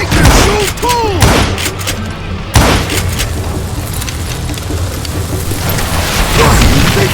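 Gunfire from the Western shooter Call of Juarez: Gunslinger, a few sharp loud shots and one heavy boom cutting through dense game noise, with whistling tones and a steady rumbling bed beneath.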